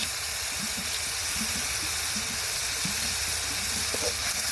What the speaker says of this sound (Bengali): মশলাটা খুব ভালোভাবে কষে নিব